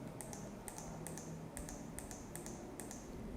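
Computer mouse clicking while drawing with a Bezier tool in design software, a run of about nine crisp, sharp clicks at a quick, slightly uneven pace over a low steady hum.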